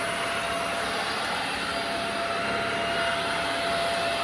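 A cordless vacuum cleaner runs steadily over carpet with a continuous, loud whirring drone and a thin motor whine that hold unbroken throughout, with no voices.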